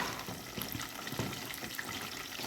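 Two litres of water poured into wheat flour to make a polenta-thick batter for breaded chicken, a steady close splashing pour running continuously with no talk.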